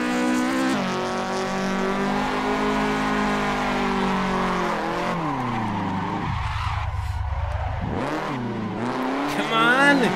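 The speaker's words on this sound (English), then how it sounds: "We're blowing this engine up" A race car in Assetto Corsa, driven hard enough to risk blowing the engine, screams at high revs with shifting pitch and dips as tires squeal through a drift, loud and continuous.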